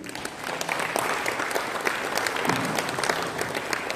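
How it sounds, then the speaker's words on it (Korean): A church congregation breaks into steady, dense applause welcoming a former general assembly president to preach, a continuous wash of many hands held at moderate volume for about four seconds. "우리 소방서 총회장 나오셔서 말씀 전하실 때 큰 박수 환영하겠습니다."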